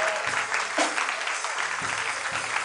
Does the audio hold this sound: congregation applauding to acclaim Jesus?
yes